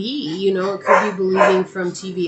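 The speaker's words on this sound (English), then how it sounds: "I apologize about the dogs" Dogs barking and yipping indoors in several excited bursts, close and fairly loud, overlapping a person talking steadily.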